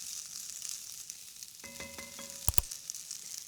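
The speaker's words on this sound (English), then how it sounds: "I'll start, though, by building in some flavor, sautéing some onion until tender." Onion sautés in olive oil in a pot, a faint, steady high sizzle throughout, broken by a couple of sharp close clicks and a brief soft ringing tone midway.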